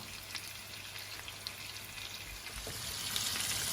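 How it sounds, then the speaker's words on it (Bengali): Marinated pomfret fish fries in oil in a pan, giving a steady close sizzle with scattered crackles and pops that swell slightly louder near the end, no talking. "এখন একটা ফ্রাই প্যানে তেল দিয়ে ভেজে নিচ্ছি।"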